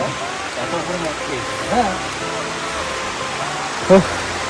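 Steady, hissing rain and rushing water fill the air at Rajagiri waterfall in Odisha, while people talk loudly over it and one brief clatter stands out.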